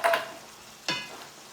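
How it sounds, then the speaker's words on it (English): Turkish karniyarik sizzling in a pan, a quiet, fizzy frying hiss with two short bursts of stirring or scraping, one at the start and one near the middle. "I'm going to spread this out here and let it sizzle and bubble"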